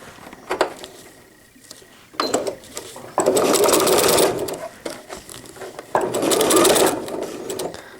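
Sewing machine stitching cotton diaper fabric with PUL at the legs, running in several bursts of fast mechanical rattling separated by short pauses, close and fairly loud.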